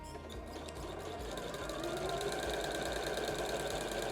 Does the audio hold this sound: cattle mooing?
no